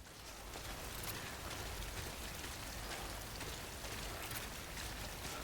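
Steady, even rainfall of timefall in Death Stranding, a soft continuous hiss of drops on surfaces with no pauses, heard alone and fairly quiet.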